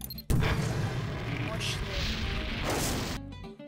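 Rockets and bombs explode in Garry's Mod: a sudden loud blast opens a long rumbling, crackling roar with further bursts layered in, then cuts off abruptly near the end.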